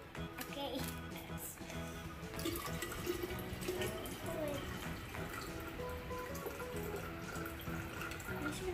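Water poured into a toy volcano, a continuous faint splashing trickle under a child's and an adult's voices talking nearby.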